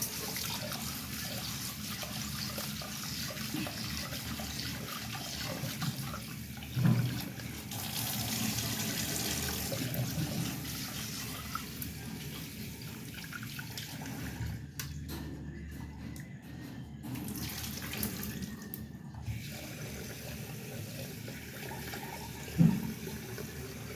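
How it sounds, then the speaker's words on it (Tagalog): Rice is washed in water at a kitchen sink, a steady rush of running and sloshing water throughout, with a couple of brief knocks of a pot or bowl. "Hugasan lang natin ang bigas."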